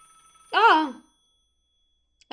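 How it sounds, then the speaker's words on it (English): A single short electronic ring of a telephone sounds inside a Roblox horror game, one clear trilling burst followed by near silence and the start of another ring at the end. "I should pick up the phone."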